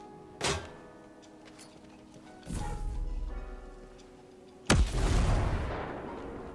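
In the video game Ghost Recon Breakpoint, a grenade explosion goes off as a sharp, loud blast with a long rumbling decay. It follows a couple of earlier thuds and bursts, with quiet gaps between them.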